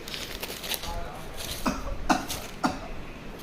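A child gives three short, sharp coughs spaced about half a second apart, close to the listener, while another voice murmurs softly in the background during a pretend doctor game.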